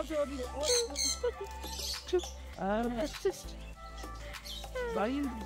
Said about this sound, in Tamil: எல்லாம் குறும்புக்கார பறவைகளா இருக்கு